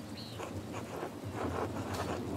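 Steady rain in the medieval-set video game Pentiment, a continuous broadband wash with soft patter, heard alone and evenly loud throughout.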